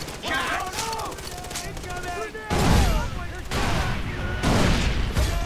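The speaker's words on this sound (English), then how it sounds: "We're getting shot while we're getting ready." Rapid gunfire in the shooter game Far Cry, with bursts of loud shots and booms packed together, louder in the second half, under overlapping voices talking.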